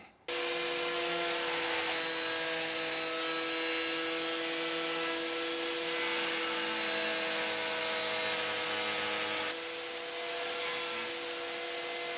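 A router cutting wood whines high, steadily and loudly, droning continuously with a brief dip in pitch near the end, while shaping a part for a full-size Dalek eye.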